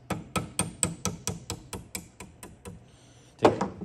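A hammer taps a steel rivet held in a vise, about a dozen sharp metallic knocks in an even, slowing rhythm, followed by a louder double strike after a short pause.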